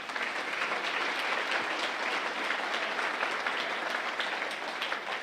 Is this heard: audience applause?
yes